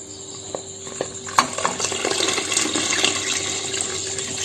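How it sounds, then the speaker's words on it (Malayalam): Three cups of second-extract coconut milk pour into a pot of broken wheat payasam, a steady liquid splash and trickle that follows a few light clinks of a vessel. "ഞാനിവിടെ ഒരു 3 കപ്പ് 2ാം പാലാണ് ഒഴിക്കുന്നത്."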